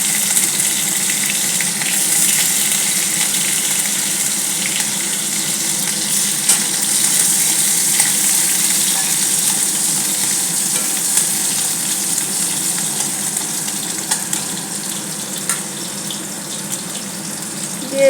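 Green chillies dropped into hot oil with cumin seeds give a continuous loud, hissing sizzle that holds steady for the whole stretch, close up and uninterrupted by speech.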